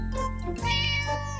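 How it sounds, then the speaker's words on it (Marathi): A cartoon cat meows loudly and close in a Marathi animated story, one drawn-out tonal meow that bends in pitch midway and rises again, heard alone. "अरे बापरे, एक मांजर!"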